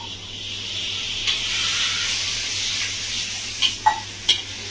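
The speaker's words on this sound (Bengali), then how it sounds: "সামান্য একটু জল দিয়েছি, 1 কাপ মতো" Spice masala sizzling in a pan as about a cup of water goes in for a Bengali village-style katla fish curry with raw mango, a steady frying hiss broken by a few brief spatters and scrapes near the end.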